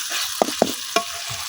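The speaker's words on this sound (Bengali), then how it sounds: "আদা রসুনটাও আমি কিছুক্ষণ ভাজা নিছি, এখন দিয়া দেম মশলা" Ginger and garlic frying in a pan, a soft steady sizzle close by with three sharp utensil knocks as spices are tipped in and stirred.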